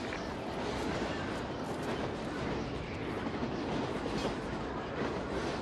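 Train rolling steadily along rails in the Call of Duty: Ghosts video game, a dense, continuous rumble with clattering wheel noise at constant loudness, no voices over it.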